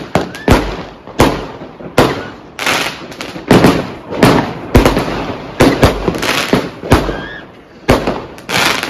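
Rapid, loud bursts of New Year's Eve fireworks exploding one after another, sharp cracks and booms in a steady irregular volley with faint whistles between.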